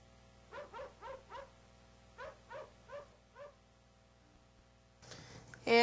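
Dogs at an animal shelter, some elderly and reportedly sick, bark in two bursts of short repeated yips, fairly close, followed by a brief clatter at the end.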